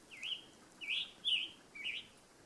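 A red songbird calls from trees along a forested mountain backpacking trail in Shenandoah National Park, giving four clear, high chirping phrases spaced about half a second apart, moderately near over faint woodland background.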